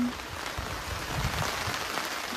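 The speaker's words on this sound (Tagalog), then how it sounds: "Ayan guys, lumakas na talaga yung ulan." Steady, dense rain patter fills the clip, a broad hiss of drops striking a surface with no voices, continuous and fairly loud.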